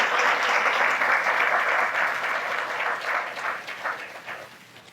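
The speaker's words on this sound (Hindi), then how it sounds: "तालियां बजा के प्रभु का धन्यवाद।" A church congregation claps together in thanks to God during a sermon: a steady, dense wash of applause that holds for several seconds before thinning out.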